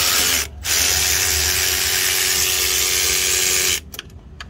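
A ratchet wrench whirs steadily while removing 11 mm clamp bolts from the charge air cooler on a Ford 6.0 Powerstroke diesel during a turbo replacement, a loud continuous clicking run that stops briefly, resumes, then ends with a few clicks.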